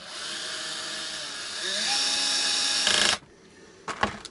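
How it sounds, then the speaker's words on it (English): Cordless power driver on its lowest torque setting running steadily up close as it drives tuner screws on an Epiphone SG guitar headstock, then cutting off, followed by a few short clicks and taps. "I've got it on setting of 1 on the torque, which is the minimum, which is enough for tuner screws."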